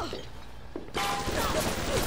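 BioShock gunfire starts with a few scattered, sharp shots, then turns into a dense, continuous burst of firing with bright mechanical ringing, close and fairly loud.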